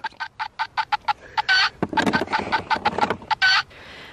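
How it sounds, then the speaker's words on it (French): A hen clucks loudly in rapid, repeated bursts, close up, with a brief noisy clatter in the middle of the run. "Une poule ça caquette bien sûr."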